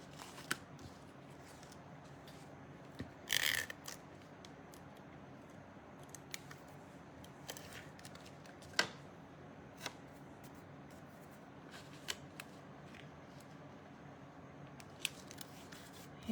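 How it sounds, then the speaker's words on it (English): A paper trimmer blade slices through paper in a few quiet, short cuts, one brief crisp burst standing out among soft scattered ticks and handling noises in a calm room without talk. "I need to change the blade in my trimmer."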